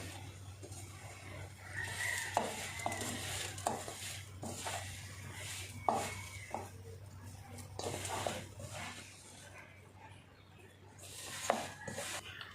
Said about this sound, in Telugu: దీన్ని బాగా కలుపుకోవాలి